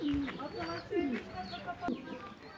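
A Hungarian pigeon with a twisted neck coos softly beside its newly hatched chick in a loft. Several low, drawn-out coos come in a loose rhythm, close by, with someone talking over them.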